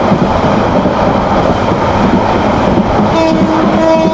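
Saikat Express passenger train racing at high speed between Chattogram and Cox's Bazar, a loud, steady rumble and rattle of wheels and carriages fills the whole stretch, with a faint horn-like tone rising near the end.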